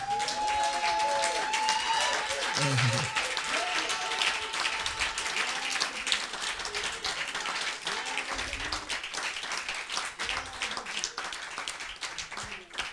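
A church congregation applauding to acclaim Jesus, sustained dense clapping from a large crowd with cheers and shouts mixed in, loud and continuous throughout.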